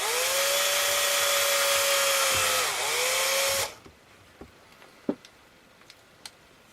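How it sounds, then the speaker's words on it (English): A power drill whines loudly and steadily while boring a small 3mm hole in the back of a plastic RC crawler wheel, dipping briefly in pitch, then stopping abruptly, followed by a few faint clicks and taps. "drill a small 3mm hole behind one of the lugs on the reverse of the wheel"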